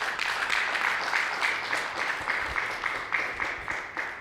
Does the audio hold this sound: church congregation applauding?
yes